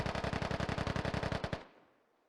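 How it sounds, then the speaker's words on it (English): Sustained automatic gunfire from a firefight in the military shooter Squad, a loud, evenly spaced burst of roughly twenty rapid shots over about one and a half seconds, then a fading echo tail into quiet. "Zeke and Trident having a shootout"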